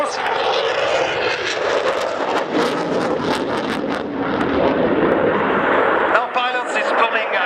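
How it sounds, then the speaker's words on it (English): Italian Air Force Eurofighter Typhoon making a max performance flyover at the Radom 2015 air show, a loud roaring jet rush swelling and fading outdoors, with a commentator talking over it. "next fly pass will be a max performance flyover followed by a continuous 9G Schneider turn"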